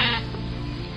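Flock of sheep near a well, one loud bleat up close carrying on as a sustained, wavering cry over a busy background of the flock, with no talking.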